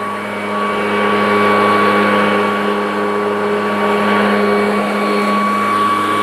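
Stiga Aero cordless hover lawn mower running on its air cushion, a steady loud whirring motor and fan drone with a constant hum and no variation, alone without talk.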